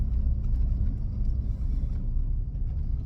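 A truck engine idles steadily, a continuous low rumble heard from inside the cab, even and moderately loud without other distinct sounds.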